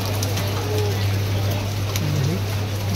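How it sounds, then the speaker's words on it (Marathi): Monsoon rain falls outside a shop at Crawford Market in Mumbai, a steady broadband hiss heard from indoors over a constant low electrical hum. "बाहेर मस्तपैकी बघा पाऊस पडतोय"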